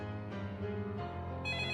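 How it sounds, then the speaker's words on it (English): A telephone bell rings loudly in steady, tonal bursts, a clear ringing sound effect heard alone with no talk over it. "The phone rang loudly."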